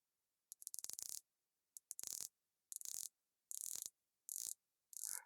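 A San Martin SN017G two-tone dive watch's 120-click bezel is turned in six short bursts of rapid, crisp ratcheting clicks separated by brief pauses, close and quiet.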